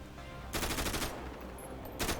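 Two bursts of rapid GTA V gunfire, one longer and one short, ring out over a steady low background hum.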